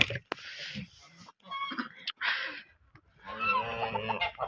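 Farmyard geese and ducks by a small pond give off scattered honks and squawking calls in short bursts, with quiet gaps between, fairly close by.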